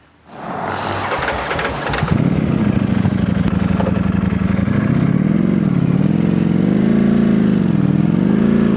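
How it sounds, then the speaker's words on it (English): A Ducati Streetfighter V4S motorcycle engine cranks and catches, then settles into a loud, close, rumbling idle with gentle rises and dips in revs, with no one speaking. "God, I love the sound of this bike."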